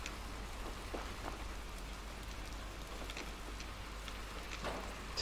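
Rain falls steadily in Little Nightmares 2, a soft, even patter with scattered droplet ticks, faint and continuous without speech.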